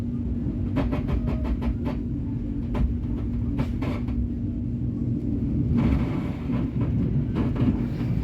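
The Joglosemarkerto passenger train rolls along the rails, a loud, steady low rumble heard from inside the carriage, with a sustained hum and scattered sharp clicks and clatters from the wheels and track.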